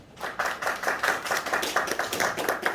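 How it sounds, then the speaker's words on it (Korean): At an April 19 Revolution 60th anniversary commemoration ceremony, the audience gives a brief burst of clapping, close and fairly sparse, with distinct individual claps. "여러분, 뜨거운 박수로 맞이해 주시기 바랍니다."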